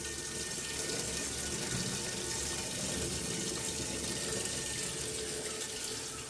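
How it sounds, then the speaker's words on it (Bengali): Water from one minute of boiling gandharaj pumpkin leaves pours off steadily through a strainer, a continuous close rushing splash that holds evenly without a break. "জলটা এখন ছেঁকে দেবো আমি, সম্পূর্ণ জলটা ফেলে দেবো"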